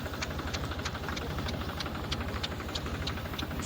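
A tractor engine drives a spray pump while Dithane and sulfur are sprayed over a 70-day cumin field. It runs as a steady, close, low diesel chug with a fast, even knocking pulse throughout and no voices.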